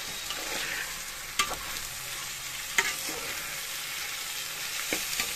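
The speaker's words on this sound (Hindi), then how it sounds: "तो हम थोड़ा फ्राई कर लेंगे चावल" Raw basmati rice being fried in a pot for chicken pulao makes a constant hissing sizzle, with a few sharp spoon clicks against the pan.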